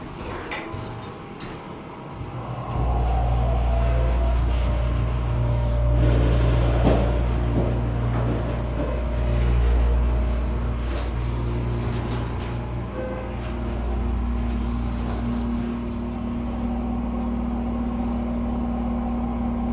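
A Schindler 330A elevator motor running during a ride in an apartment building: a steady low hum and drone that starts after a few seconds and continues with slight rises and dips, plus faint car rattles.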